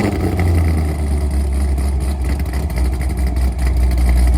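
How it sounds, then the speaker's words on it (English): A Chevrolet Corvette C6 engine running after sitting unused for months, a loud rough steady rumble with slight uneven pulsing throughout. "this thing's probably gonna sound pretty gnarly because it hasn't started in a couple months."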